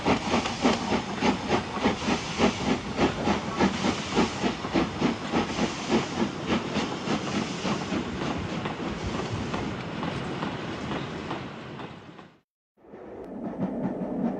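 A Class B16 steam locomotive hauling a freight train near York in the 1960s, loud rhythmic chuffing over a broad steam hiss with rail clatter, briefly dropping out before resuming.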